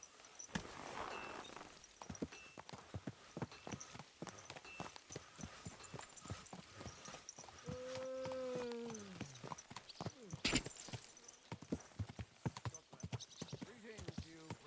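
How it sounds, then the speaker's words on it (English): Horse hooves clip-clop in a steady walking rhythm in the video game Kingdom Come Deliverance 2, close and clear, with a brief whinny midway and voices talking over parts of it. "What a beautiful horse."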